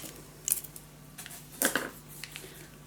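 Backing paper peeled off for a paper mini album, two short close crackling rips separated by about a second, with faint small rustles between them and no voices.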